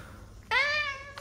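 A single clear cat meow, rising then falling over about half a second, close and alone against a quiet room background.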